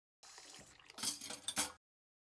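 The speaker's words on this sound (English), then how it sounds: "Dishwasher." A kitchen dishwasher is at work, with water splashing and dishes and cutlery clinking and rattling in bursts that grow louder toward the end, close by, with no voices.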